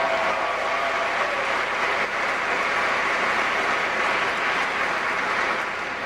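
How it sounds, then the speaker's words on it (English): An audience applauds Congressman Jerry Lewis at an event with George W. Bush, a loud, steady wash of clapping from a large crowd that carries on evenly throughout before easing slightly at the end. "I noticed the people in the uniforms here applauding a little louder."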